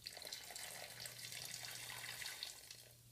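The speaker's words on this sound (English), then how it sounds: "Now I'm adding the remaining liquid." Remaining liquid poured into a pot of keto cranberry sauce, a faint, steady stream of trickling water with a soft low hum beneath it, fading out near the end.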